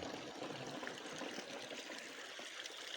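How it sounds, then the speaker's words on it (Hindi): Steady flowing water from a mountain spring in the Tolipir valley of Kashmir, a continuous close rushing wash with no voices. "पानी बह रहा जनाब तको"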